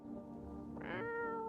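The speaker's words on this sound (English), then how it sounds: "You reach out and pet the cat." A cat meows once in a video game, a short rising-and-falling meow over quiet game background sound.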